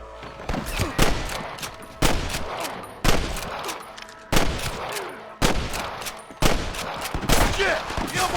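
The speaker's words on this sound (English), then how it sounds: "I can hear more gunshots." Gunfire erupts in the video game Red Dead Redemption during a shootout at Pike's Basin. About seven sharp, loud volleys of rapid shots come at roughly one-second intervals, each followed by a short echoing tail.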